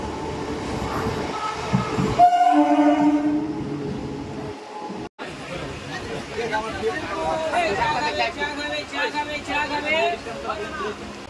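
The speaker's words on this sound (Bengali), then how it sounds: "আমাদের ট্রেন ঢুকছে কিন্তু দীঘার লোকাল, যেটা মেচেদা স্টেশনের 5 নম্বর প্ল্যাটফর্মে। এই যে আসছে ট্রেন।" A Digha-bound local train pulls into platform 5 at Mecheda station, its horn sounding and a rumbling roll building at close range, with steady platform bustle and people talking around it.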